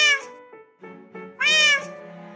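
Multicoloured cat meowing in a string of short, close calls of rising and falling pitch, ending in one longer, louder meow.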